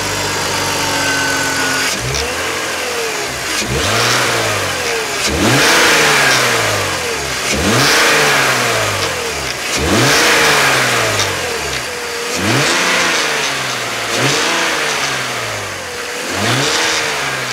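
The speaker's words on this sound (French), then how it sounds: "c'est un bruit de roulement ou de grognement qui provient de l'unité Vanos" BMW 330i Touring with an M52TU/M54 engine and a faulty Vanos unit, revved repeatedly from idle, each loud rise and fall carrying a rumbling, growling undertone close up, with no talk.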